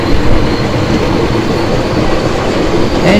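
The Jhelum Express in the MSTS Open Rails simulator accelerates under full throttle, a loud, continuous rail rumble with rhythmic wheel clatter and no talk.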